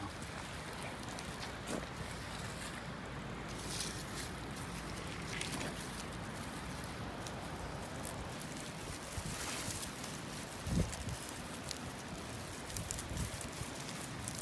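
Steady broadband rushing and buffeting of wind on a snowy sheep dairy farm, continuous throughout with occasional gusts and faint knocks, no voices.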